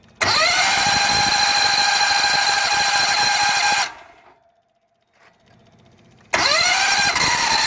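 Outboard engine on a duck boat cranked by key and firing up loud, roaring steadily, cutting out into near silence with faint ticking, then restarting at full volume.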